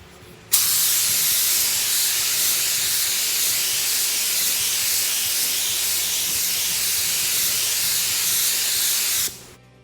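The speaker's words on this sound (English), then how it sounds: "And that's done for coat number 2." A spray gun lays a coat of paint over a fiberglass repair, a loud, steady, close hiss running for about nine seconds and then cutting off.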